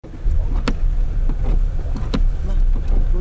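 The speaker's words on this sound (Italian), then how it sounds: "Una macchina alla reception c'è." A car idling or rolling near a campsite reception, a close, steady engine rumble with a few sharp clicks and knocks on top.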